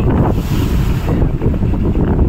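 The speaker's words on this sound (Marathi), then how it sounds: "ही बोट फिरून आलेली आहे, घरी चाललेली आहे" A boat travels on the open sea, its steady rushing water and engine noise dominated by heavy wind buffeting the microphone, continuous and loud throughout.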